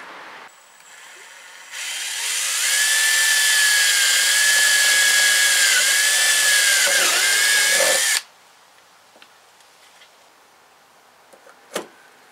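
A power rivet tool on a car body panel whirs in one steady, loud, high-pitched burst of about six seconds, then cuts off. Quiet handling clicks and a single sharp snap follow.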